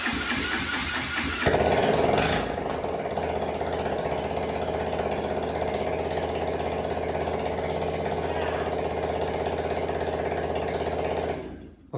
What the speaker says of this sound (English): so now we know that engine runs well